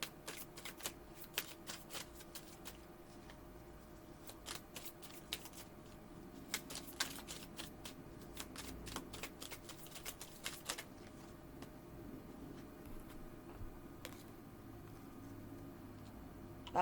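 A Romance Angel oracle card deck is shuffled close to the mic in quiet surroundings, giving soft, rapid riffling flutters with scattered sharp card clicks, in bursts over a faint background.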